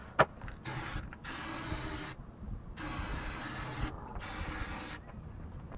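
Brake cleaner hisses from an aerosol can in sustained bursts onto the rear differential of a Jeep Cherokee XJ, three long sprays with short pauses between, close and fairly loud, no talk.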